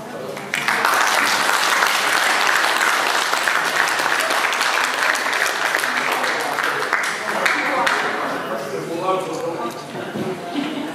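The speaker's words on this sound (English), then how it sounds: "Another big round of applause for Karen Billings-Jensen" An audience at a 20th anniversary celebration in Auckland, New Zealand bursts into loud, sustained applause that begins abruptly and gradually thins toward the end, with voices mixed in.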